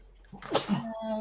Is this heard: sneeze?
yes